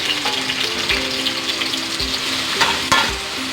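Chana dal frying in a pan makes a steady sizzle, with a few sharp clinks and scrapes of stirring breaking through near the end.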